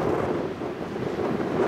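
Strong wind of about 25 mph buffets the microphone near a rail line in Clinton, Iowa, a low, gusty rumble lasting under two seconds.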